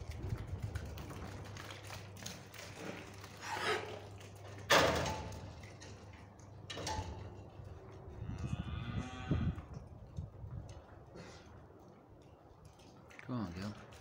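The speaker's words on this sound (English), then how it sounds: "There's a couple of cows coming out there," Cows and calves in a shed give a few low moos and a bleat among clanks and a sharp knock, while people talk and call to the animals.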